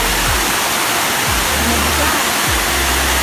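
A small waterfall at a hidden spot in Santol, La Union, a loud, close, unbroken rush of falling water that fills everything, with a few low thumps underneath.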